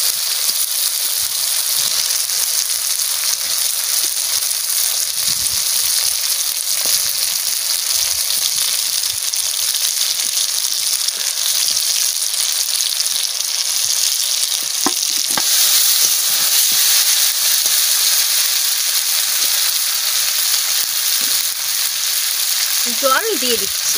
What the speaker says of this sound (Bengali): মশলা আমার ভাজা হয়ে গেছে, আমি এক এক করে মাছ ছেড়ে দেবো।